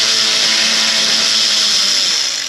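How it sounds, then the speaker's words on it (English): A ratchet with a 10 mm socket removes condenser fasteners on a 2007 Chrysler PT Cruiser 2.4. It makes a loud, steady whirring drone that runs unbroken for under three seconds, with no talking. "Let's get a 10 mil on the ratchet and pull these fasteners out"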